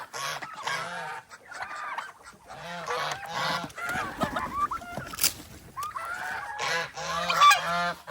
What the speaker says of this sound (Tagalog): Dito naman tayo sa mga gansa